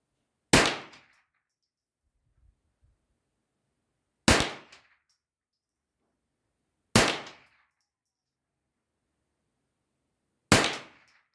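Derya TM22 rifle firing Aguila 38-grain hollow-point rounds while zeroing for hunting: four sharp, loud single shots spaced a few seconds apart, each with a short decaying tail and quiet between.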